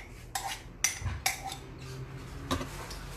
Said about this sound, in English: so I'm just gonna grab a spoon of the dip.